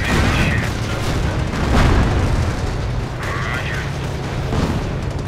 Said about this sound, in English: Oh, they're throwing satchels at it.